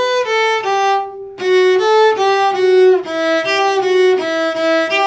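Cello playing a passage from the third movement of Saint-Saëns' Cello Concerto No. 1 with separate bow strokes, a clear sequence of sustained bowed notes with a brief pause after the first phrase, close and solo.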